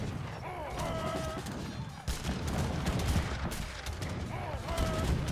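Mortar and artillery fire in a real-time strategy match from the Treaty League: steady rolling booms and dense gunfire-like bursts layered over battle ambience, with a sharp louder impact midway and constant clutter throughout.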